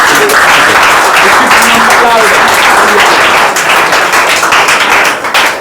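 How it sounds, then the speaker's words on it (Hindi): Sustained applause fills a classroom as students cheer a classmate who topped a Saturday test, loud and steady throughout with some voices mixed in. "ताली भैया, ताली भैया, ताली भैया।"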